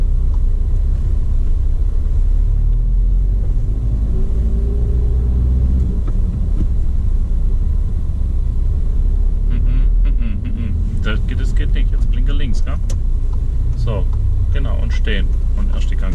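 A learner car pulls away from the curb during a driving lesson, a steady low engine rumble running throughout with an instructor's voice talking over it.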